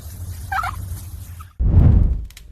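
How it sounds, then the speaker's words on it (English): A group of turkeys gobbles loudly and close, a burst of rattling calls in the second half after a quieter stretch with faint bird chatter. "another group of turkeys began circling his mother's tombstone as well"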